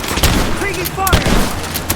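Dense gunfire rattles through a Rise of the Tomb Raider firefight, rapid bursts and sharp cracks overlapping with booms, alongside shouted voices.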